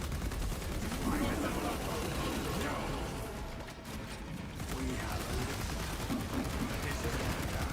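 Rapid automatic gunfire in Space Marine 2, a dense continuous rattle of shots that eases briefly midway before resuming, loud and close with busy game effects around it.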